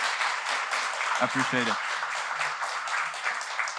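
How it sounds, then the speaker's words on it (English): Audience at a game design conference applauds after a talk, a continuous wash of clapping while someone speaks briefly over it. "Round of applause."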